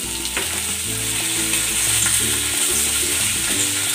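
Pork and sliced onion sizzle steadily in a hot pan as a braised pork dish is cooked, with a loud continuous fry and occasional stirring clatter, no talking.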